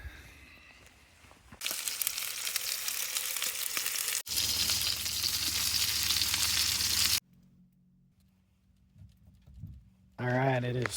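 A ribeye steak sizzles loudly and steadily in a pan on a camp stove at a cold outdoor campsite, cutting off abruptly into quieter stretches with some handling noise.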